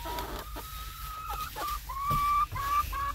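Hens in a backyard flock cluck close by in a quick run of short, bright calls with little gaps between them.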